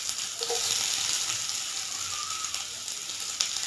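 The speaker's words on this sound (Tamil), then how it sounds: "ஸோ இதை போட்டு கொஞ்சம் வெங்காயம் வதங்குற வரை நம்ம எடுத்துக்கலாம் வதக்கி" Chopped onion and green chillies sauté with cumin in a hot oiled pan, giving a steady close sizzle and crackle with faint stirring scrapes and no talking.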